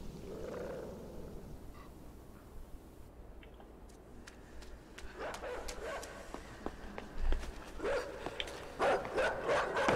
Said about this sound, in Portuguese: O cachorro me trollou.